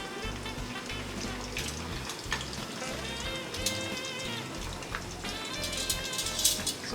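Cream dory fish frying in a pan, oil sizzling and crackling steadily, with a low hum and scattered pops throughout; no one speaks.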